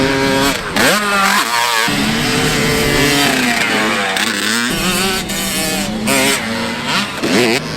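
Motocross bikes at a New York track climb a tabletop jump face under steady throttle, their engines droning loud and close with rising and falling pitch sweeps as several riders pass in overlapping succession.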